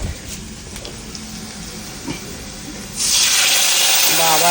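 Dal tempering hisses in hot oil in a home kitchen, a steady sizzle that swells sharply louder partway through, with faint voices beneath.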